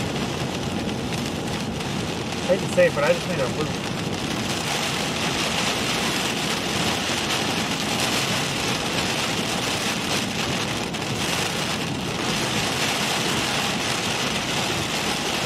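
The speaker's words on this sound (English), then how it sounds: "You're going to hear a lot more rain right now." Heavy rain pours down steadily on a moving vehicle during a storm chase, a loud continuous wash with road and engine rumble beneath and one person speaking briefly.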